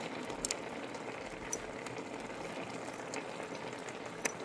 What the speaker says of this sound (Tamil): தேங்காய் பால் நல்லா கொதிச்சிட்டுது